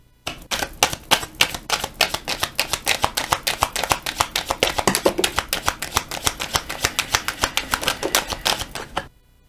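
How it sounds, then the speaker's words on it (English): Rapid, continuous riffle of playing cards being shuffled, a dense run of sharp crisp flicks lasting several seconds, close and clear with no talking. "I'm going to do one more shuffle here"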